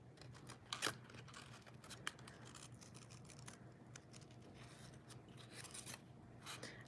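Scissors trim a handmade paper greeting card, giving a few crisp snips and soft rustles up close and quiet, with sharper cuts near the start.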